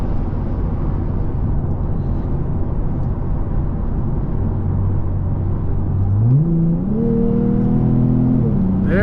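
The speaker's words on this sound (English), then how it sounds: "that truck's in a hurry" A truck roars past on the road in a loud, steady rumble, its engine note rising and climbing in pitch as it accelerates toward the end.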